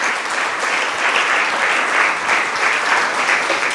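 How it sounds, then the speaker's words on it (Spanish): Loud, steady applause from a church congregation, dense continuous clapping close and full throughout with no talk over it. "Denle un aplauso por la vida de esos hombres"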